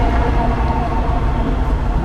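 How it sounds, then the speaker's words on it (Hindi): Dubai Metro train at the Jabal Ali station switching onto another track, a steady loud rumble of wheels and carriage noise that keeps up without a break, heard close by. "ये वाली ट्रेन ये अपना ट्रैक वहाँ से चेंज करेगी, वो इसका चेंजिंग पॉइंट है।"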